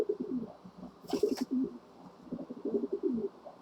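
A caged pet bird, a dove or pigeon, coos softly and close in repeated throaty phrases. A brief rustle or flutter comes partway through.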